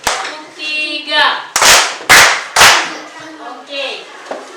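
A classroom of students claps in a counted pattern, three sharp loud group claps in a row among chanted counting voices.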